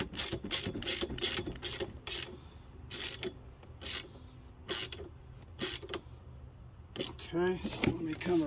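A ratchet wrench tightens a 13 millimeter nut during Kobalt 10 inch table saw assembly, giving quick clicking bursts in irregular runs, close and distinct, with a speaking voice at the end.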